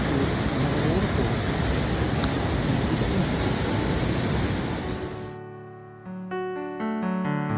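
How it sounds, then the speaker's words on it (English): Rushing water of a waterfall on the Milford Track, a steady loud broadband roar close by for about five seconds, then cut off abruptly and replaced by quiet music. "Another waterfall."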